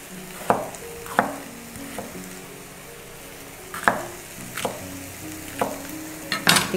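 Chopped bell pepper dropped into a pan of sizzling sausages and stirred, a constant close fry hiss punctuated by sharp spatula knocks and scrapes at irregular intervals, with no talking.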